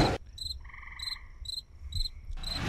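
In the video game Life of Black Tiger, a goat gives off a cricket-like chirp: several short, high, rhythmic trills repeating evenly over a quiet background, nearby and clear with no talk.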